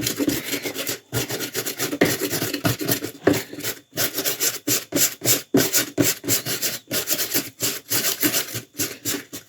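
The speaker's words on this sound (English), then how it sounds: "I scuffed the brass up a little bit with some low grit sandpaper" Low-grit sandpaper scuffs across a brass surface in quick rhythmic back-and-forth strokes, a close, raspy rubbing with short pauses between passes.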